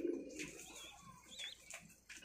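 Pigeons in a loft where pairs are nesting on eggs give soft, low cooing calls, faint and close, with a few brief higher chirps and light rustling between them.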